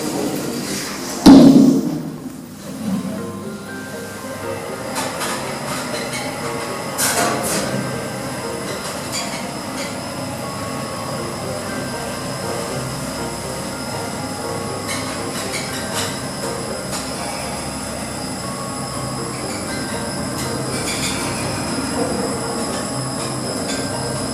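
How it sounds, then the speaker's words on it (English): A service lift at Eastfields rides up to the car park level, giving a steady mechanical hum and rumble with a loud thump near the start, then continuous travel noise with faint squeals and no talk. "only the left hand lift goes up to the car park level. So let's ride it."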